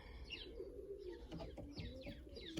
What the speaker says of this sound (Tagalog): Dito sa labas, yan ang mga kalapati nila jowa.